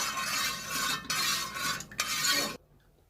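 Biryani ingredients stirred in a cooking pot, with a spoon scraping and swishing in repeated strokes, briefly pausing, then stopping into near silence.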